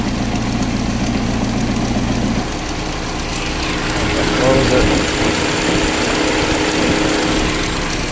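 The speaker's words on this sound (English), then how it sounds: "And you can hear the exhaust difference. Like, that one's loud." A 2015 Chevrolet Equinox 2.4L engine with secondary air pump faults idles loudly with a rough, rumbling exhaust note, its pitch shifting partway through, while a voice speaks briefly nearby.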